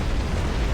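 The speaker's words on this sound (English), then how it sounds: "Two grenade." A second grenade blast in the video game Halo 3 comes as a short, loud burst of rumbling explosion noise, dense and constant through its brief span, with no talking.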